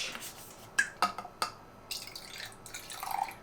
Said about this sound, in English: Fill it with a little bit of mouthwash